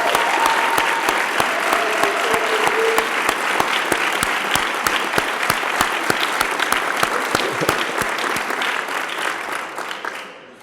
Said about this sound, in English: give one more round of applause for our three finalists